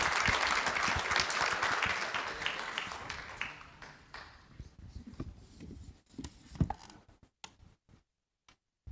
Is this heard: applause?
yes